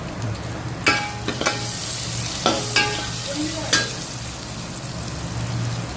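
Curry leaves and asafoetida sizzling in hot oil for a tempering, a steady close sizzle broken by several sharp clicks of a spoon stirring against the pan.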